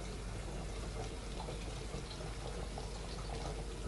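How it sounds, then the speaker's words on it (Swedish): A pot of water boiling hard on a stove, a steady, loud, continuous bubbling roar with no pauses. "nu kokar det rätt så ja, stormkokar"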